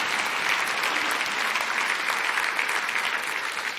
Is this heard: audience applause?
yes